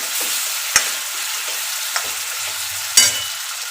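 Potatoes tossed with garlic chutney in a hot pan for Bhavnagar-style garlicky bhungla bateta, a steady sizzle broken by a few sharp spoon scrapes and clinks against the metal, with no voices.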